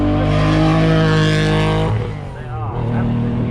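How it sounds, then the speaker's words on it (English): An MG Metro 6R4 rally car at the Shelsley Walsh hillclimb burbles loudly at close range, a rich rumble that dips briefly and then comes back, with a commentator talking over it. "6R4 with me. Definitely burbling away."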